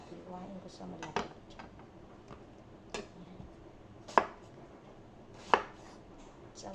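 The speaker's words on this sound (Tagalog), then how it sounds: "Hiwa ko ng talong prito" A knife cuts through eggplant on a board for frying, a few soft sparse chops spaced a second or more apart, with a couple of sharper clacks near the end, quiet and close.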